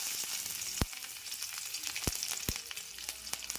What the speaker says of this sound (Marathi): चला आता झटपट फोडणी तर पहा गॅसची फ्लेम मोठीच ठेवायची आलं लसूण हिरव्या मिरच्या दोन आहेत कट केलेल्या